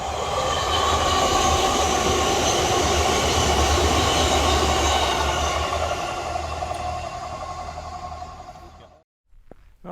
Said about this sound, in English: I'm gonna spot some trains